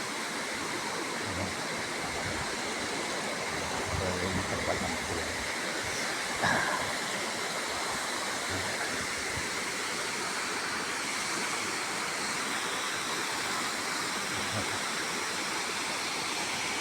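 Steady roar of Ko Luang waterfall in Mae Ping National Park, Li district, Lamphun, Thailand, a dense continuous rush of falling water heard close, with a brief louder splash midway and no talking.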